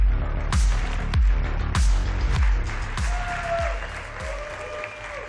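Audience applause for Jason Calacanis at an on-stage conversation event, a loud, continuous burst of clapping with strong rhythmic thumps pulsing through it before it gradually thins out.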